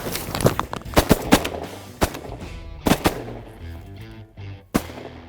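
Shotguns firing at mallards coming into decoys on a warm water creek in Nebraska, a rapid volley of several loud overlapping blasts over about three seconds, then a couple of scattered later shots.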